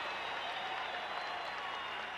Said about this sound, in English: the crowd in Seattle tells you the story